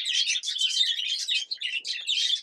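Budgerigar chicks of a cinnamon gray line chirp inside a nest box, a dense, continuous stream of high, scratchy peeps heard close up with no voices.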